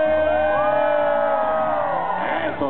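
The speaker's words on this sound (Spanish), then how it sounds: "vamos a animar al charro con un grito de todas las mujeres" Crowd of women at a charro horse show raising a shrill collective shout and cheer, a sustained bright whooping roar that swells and holds, loud and close for a few seconds.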